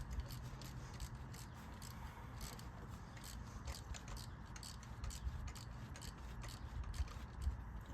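A ratchet loosens a spark plug on an 11th-generation Toyota Corolla, a faint, quick string of clicking pawl ticks repeating steadily, close up over a quiet background.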